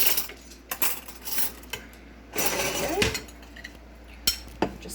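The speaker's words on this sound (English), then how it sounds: "I'll give this a quick little stir." A spoon stirs pasta with olive oil and salt in a pot, giving scattered metallic clinks and scraping strokes against the pot, close and moderate, with a low background hum.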